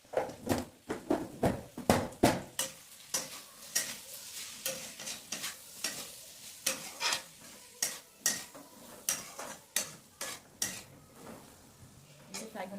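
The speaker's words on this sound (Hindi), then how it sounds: "इसे फ्राई होने देती हूँ" Green beans and potatoes frying as a spiced sabzi in a pan, heard mostly as a run of sharp, rhythmic clinks and scrapes of a spoon against the pan over a faint sizzle, close and irregular.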